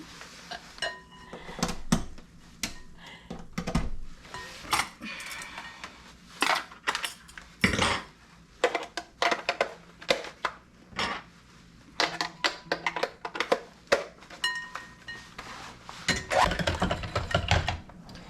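Mixture for a cheesy hashbrown breakfast being beaten in a bowl, heard as irregular clinks, taps and scrapes of utensil against the bowl, loud and close, in uneven bursts.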